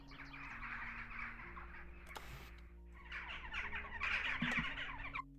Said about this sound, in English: I think the birds are now too frequent